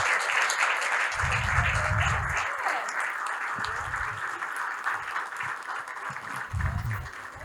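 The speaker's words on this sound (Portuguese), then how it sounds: "para a gente receber com aplauso a nossa querida convidada Ana Jaime" A standing audience at the Goiânia forum applauds guest Ana Jayme with continuous, steady clapping, while a voice speaks over it in short bursts.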